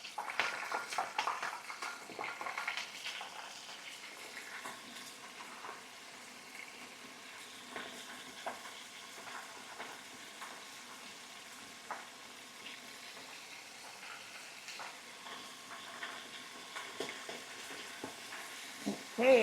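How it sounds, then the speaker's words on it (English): Breaded oysters fry in a pan of hot oil, giving a steady close-up sizzle and crackle with a few sharper pops and stirring noises. No one speaks. "the oil is hot enough. So we are frying our first batch"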